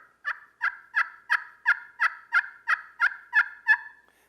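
About eleven evenly spaced, clear yelps from a turkey call imitate a hen turkey, each a short raspy note in a steady rhythm, close up and alone.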